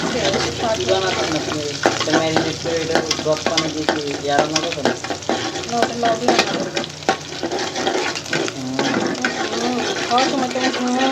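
Oil heats and fries in a pan with loud, busy sizzling close by, packed with frequent spatula scrapes and clinks from stirring throughout. A faint voice may come through.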